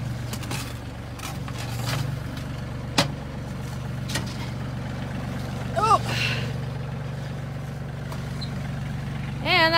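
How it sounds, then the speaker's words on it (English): A farm tractor's engine idles nearby with a steady low rumble, and a few clanks and squeaks rise over it. "it's going to get noisy because I have the tractor running"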